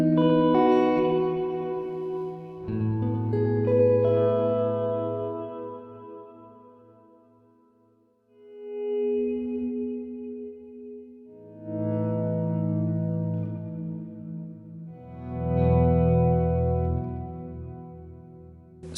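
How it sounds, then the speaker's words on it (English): Sustained music chords drenched in a long-decay reverb, each phrase swelling loudly and then fading slowly into a lingering tail before the next begins, with no talk. "Some of my favourite sounds in reverb are when you've got reverb really long decays"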